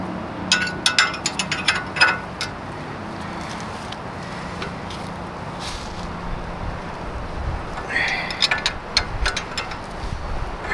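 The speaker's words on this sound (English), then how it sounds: "Let's start by removing the 21mm nut on the upper control arm." Ratchet clicking in quick bursts while loosening the 21mm nut on the upper control arm of a 2004 Mercury Grand Marquis during a front strut job, heard near against steady background noise, with a pause between the two rounds of cranking.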